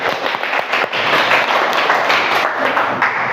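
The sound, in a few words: applause for a student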